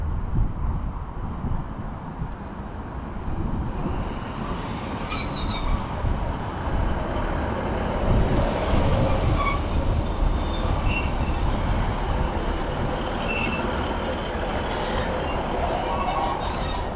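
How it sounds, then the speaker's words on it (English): A Northern Class 156 diesel unit pulls into Blackpool South station, wheels grinding and squealing loudly against the rails with high metallic screeches over a deep rumble that builds as it nears, with no talking. "arriving in now is going to be the what will be the 12:30 Northern service to Preston, which is terminating here at Blackpool South"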